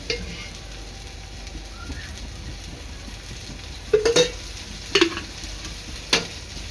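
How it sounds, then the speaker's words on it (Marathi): Paneer slices fry in oil until golden, giving a steady, quiet background sizzle broken by a few sharp clinks and scrapes of a utensil against the pan. "आणि दुसऱ्या साईडने सुद्धा एक तीन ते चार मिनटं शिजून घ्यायचं आहे खरपूस रंग येईपर्यंत"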